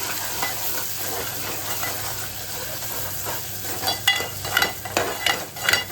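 Masala paste fries in hot oil with a continuous close sizzle, and toward the end rhythmic stirring strokes bring repeated louder scraping bursts.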